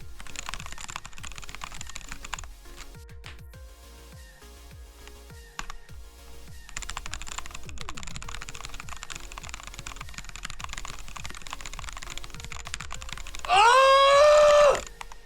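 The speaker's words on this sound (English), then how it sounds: "Listen to the sound of the keyboard." Fast typing on a computer keyboard during a coding session, with rapid clattering keystrokes in bursts and short pauses, close up, ending with a brief loud burst of another sound.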